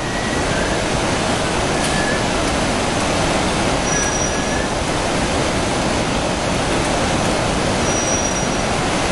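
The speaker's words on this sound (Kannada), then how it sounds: "ಟ್ರೈನ್ ಅಷ್ಟೊತ್ತಿಗೆ ಹೋಗುತ್ತೆ ಫುಲ್" A train rushing past near a waterfall and bridge, a loud, steady broadband roar filling the whole stretch with no break, rail noise blending into the rush of falling water.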